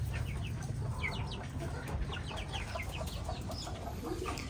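Dong Tao chickens cluck in a coop they share with pigeons, giving repeated short clucks and calls at close range over a constant low background hum, with no talking.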